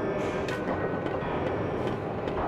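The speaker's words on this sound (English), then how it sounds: "I'll ride the tram to the tower." Tram riding on rails in the video game Forgotton Anne, a steady rumbling roll with rhythmic clicks and clacks of wheels over track joints, moderately quiet and without speech.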